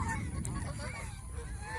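Domestic geese honking continuously at close range, several overlapping nasal calls forming a dense, loud chorus across the whole moment.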